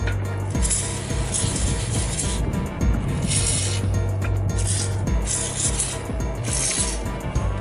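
Steady ratcheting and rubbing as bolts are run in on a Dodge Dakota, a continuous busy mechanical clatter with a low hum, fairly close and with no talk.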